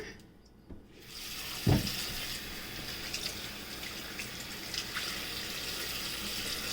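Water runs steadily from a tap into a basin to rinse salted fish. A soft clunk comes just before the flow starts, and the stream continues quietly after that.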